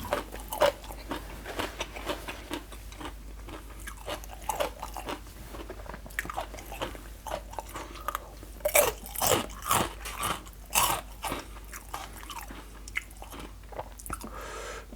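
Crunchy bites and chewing of a full mouthful of fresh raw shrimp in a spicy shrimp salad, with repeated close, loud crunches in an uneven rhythm and no talking.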